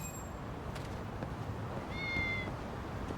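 A cat in a video game meows, a brief clear call standing out over a steady low game ambience, with faint chiming tones earlier on.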